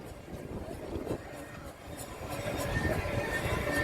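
A restored 1911 steam road locomotive at a steam fair gives a steady, loud, rumbling chug that swells slightly toward the end, with crowd noise faintly around it.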